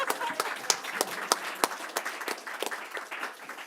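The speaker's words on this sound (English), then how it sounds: "The book again, let's clap first," A small seated audience at a book talk claps, with sharp individual hand claps standing out from a looser, uneven patter that thins toward the end.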